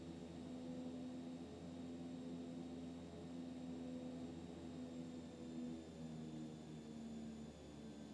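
A propeller aircraft engine in the X-Plane 12 flight simulator drones steadily and faintly, a constant hum with tonal whine that barely shifts, and no one speaks.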